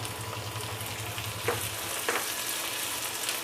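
Two tomatoes drop into a pan of frying onion and garlic, giving a steady hiss of sizzling oil with a couple of soft stirring scrapes partway through, fairly quiet and without voices.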